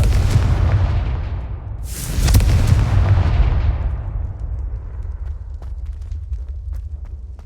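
A Confringo blasting spell in Hogwarts Legacy goes off as a deep, rumbling explosion, with a second sharp blast and roar swelling midway and then a long, fading rumble with faint crackles.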